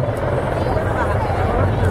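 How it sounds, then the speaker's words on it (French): Several helicopters hover in formation at a 2016 free flight air show, a loud, steady rotor roar with a low throb filling the whole stretch, crowd and commentary blurred beneath it. "ils vont s'immobiliser les hélicoptères et ils vont vous montrer une métaphore des ailes du moulin"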